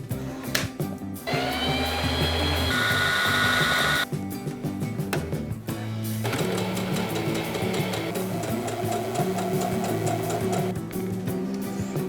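Home sewing machine stitching pieces of a bridesmaid dress together, a loud steady mechanical whir running almost continuously with short pauses and changes in pitch, no talking.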